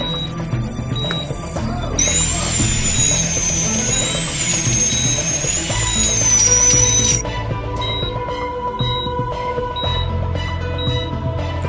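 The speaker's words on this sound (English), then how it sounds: "Use the drill to go through the hole." A surgery video game drill gives a high, wavering electric whine that lasts about five seconds, set against soft, steady background tones.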